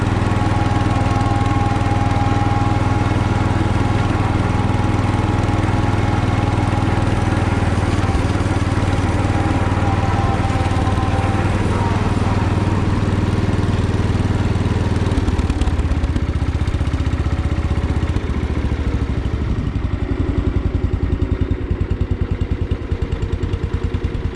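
The engine of a 1969 140 garden tractor runs continuously, a loud, steady mechanical drone with a rapid chugging pulse. Partway through, the sound shifts and becomes somewhat lighter, then keeps running to the end.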